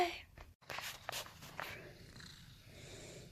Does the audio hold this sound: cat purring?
yes